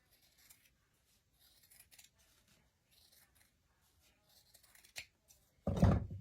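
Scissors cut out felt pieces for a hat brim in a quiet room, with faint, sparse snips and rustles scattered across several seconds, ending in a louder, closer scraping burst.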